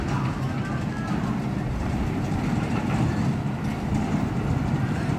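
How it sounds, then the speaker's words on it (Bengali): A small toy train rumbles steadily on its track at an amusement park, a constant rolling clatter with wind buffeting the microphone throughout. "এখন দেখতেছি ট্রেনটা চালু করেছে।"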